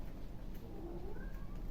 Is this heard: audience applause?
no